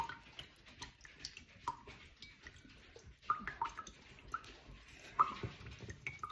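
Coconut water trickling and dripping out of a freshly opened coconut, quiet irregular splashes and drips with a few sharper ticks, soft and close.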